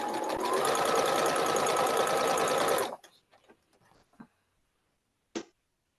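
A sewing machine stitching quilt block pieces, a loud, close, fast steady whir for about three seconds, then stopping, followed by a few faint clicks and handling knocks.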